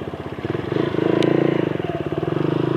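A Vperman150 V3 motorcycle engine drones steadily while riding, with a pulsing low rumble that swells as it pulls harder, loud and close, plus a brief high click midway.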